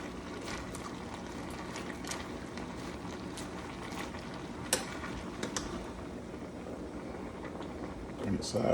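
Cabbage frying in a pan as a spoon stirs it: a steady soft sizzle with scattered scrapes and clicks, and a louder clatter near the end.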